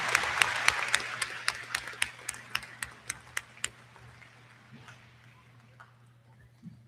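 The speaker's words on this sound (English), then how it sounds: "please stand so that we can give you a warm round of applause" Applause for faculty and staff at a university commencement ceremony: a crowd's clapping that swells into sharp, regular claps, then thins and fades out over several seconds, with a steady low hum beneath it.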